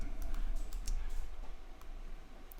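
Rapid keystrokes and spacebar presses on a computer keyboard, a run of close, crisp clicks at an uneven typing rhythm with no one speaking.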